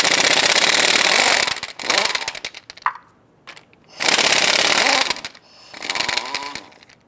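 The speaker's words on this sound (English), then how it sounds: "Using our 7/8 socket, we're going to head loosen and remove our lug nuts." Pneumatic impact wrench with a 7/8 socket loosening lug nuts on a 2002-2008 Dodge Ram 1500 front wheel: three loud, harsh bursts of buzzing hammering, separated by short pauses with faint clicks.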